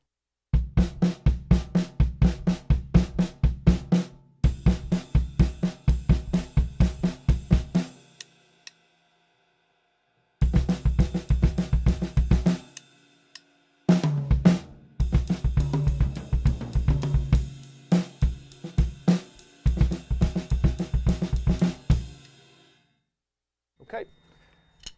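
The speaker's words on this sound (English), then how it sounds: "polyrhythmical, snare and bass combined" A drum kit plays a fast polyrhythmic groove combining snare and bass drum in dense, steady strokes, with a short pause and restart midway, loud and close with no talking.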